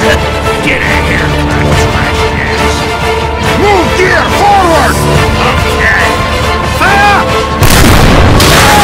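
Cannons fire in an animated battle scene, heavy booms under busy voices and whistling effects, with a loud burst near the end.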